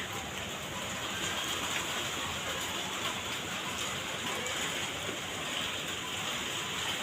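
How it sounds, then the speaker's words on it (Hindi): Light rain falls on stone, a soft, even hiss with scattered pattering drops. It is quiet and continuous, with no voices. "आवाज़ पत्थरे पर बारिश गिर रही है"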